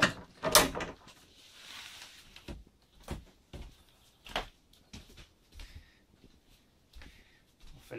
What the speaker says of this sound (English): in the back here in the bedroom, there are sliding doors